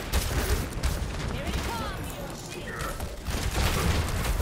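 Rapid game gunfire from Overwatch, with Ashe firing during a team fight, crackles steadily through the whole stretch as teammates talk over it.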